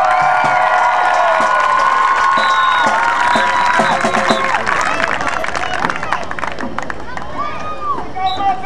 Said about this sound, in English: give another hand of applause